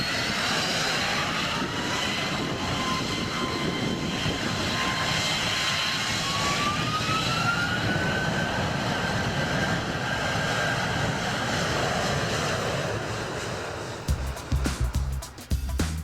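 A jet airliner takes off from runway 23 left, a loud, steady engine roar with a slowly rising whine that holds for most of the clip, then breaks into uneven clattering bursts near the end.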